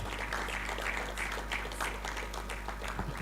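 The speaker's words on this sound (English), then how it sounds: "I didn't get a very good round of applause." A small audience at a Nigerian public policy conversation gives faint, scattered applause, a thin patter of clapping that holds steady for a few seconds.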